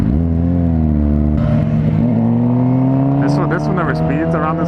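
A car engine revs and accelerates steadily while rounding a corner, its drone loud and continuous and its pitch climbing, with people talking over it.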